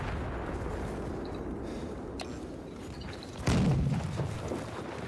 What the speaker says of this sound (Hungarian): Ágyúzik már valamelyik tie.